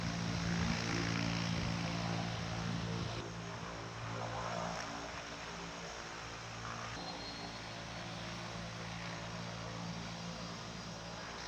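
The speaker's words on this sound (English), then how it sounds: "This is the Beaver." De Havilland Beaver floatplane on a lake near Yellowknife, its radial engine and propeller droning steadily, loud at first and then settling to an even, continuous roar.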